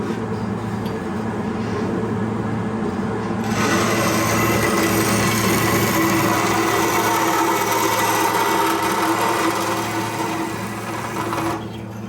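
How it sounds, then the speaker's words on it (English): A 1946 bandsaw runs steadily at close range, a continuous mechanical hum and whir that swells slightly louder after the first few seconds and holds without pause. "You said this bandsaw was from 1946?"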